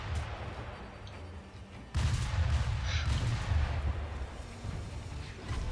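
Gunfire from the gun fort in Sekiro: Shadows Die Twice, a steady rumbling barrage of shots that grows louder after the first two seconds and continues densely to the end.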